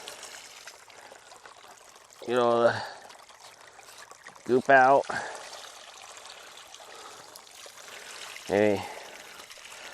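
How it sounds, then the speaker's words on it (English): Water pours and trickles steadily into a 3D-printed sluice used for gold prospecting in Boise, Idaho, a continuous close wash running beneath a few short bursts of someone talking. "Fill the water."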